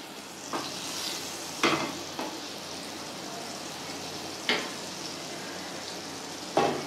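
Butter sizzles steadily in a hot wok on a gas flame for a sugar-free bread egg pancake, a continuous fizzing hiss broken by a few brief scraping stirs.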